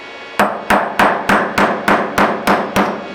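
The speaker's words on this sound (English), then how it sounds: "So just going to drive out the barrel retaining pin." Hammer striking a punch to drive out the barrel retaining pin of an FAL rifle, nine sharp evenly spaced metallic blows, close and loud, with no talk.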